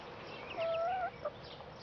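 Chicken and turkey chicks peep from inside a box, a high thin whistling call in one sustained note with a brief second chirp, heard close over faint background chatter of the flock.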